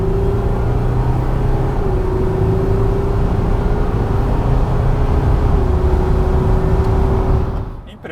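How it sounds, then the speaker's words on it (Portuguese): Volkswagen Amarok V6 Extreme pickup accelerating hard from about 60 km/h, a steady low engine hum climbing smoothly under strong road and wind roar, loud and continuous until it cuts off at the end. "a resposta da picape quando a gente pisa no acelerador"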